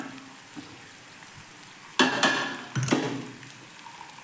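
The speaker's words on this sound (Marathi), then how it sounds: "कांदा भाजत आलाय आता" Onion frying in a pan for a quick tomato bhaji, with a soft steady sizzle that surges into louder crackling bursts as it is stirred.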